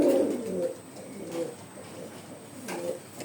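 A pigeon coos in low, throaty phrases, strongest at the start and returning twice more, close by with faint background noise and no speech.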